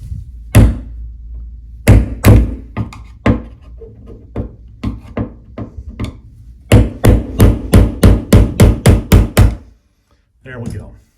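A screwdriver tapped against an old door hinge pin to work it loose: a dozen or so sharp, close knocks, spaced irregularly at first, then coming in a quick even run before a pause and one last tap.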